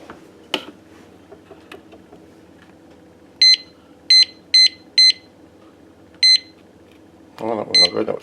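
A kitchen timer gives several short, bright electronic beeps one at a time as it is set for steeping a brew, each beep spaced apart, with a faint clack and some handling noise near the end.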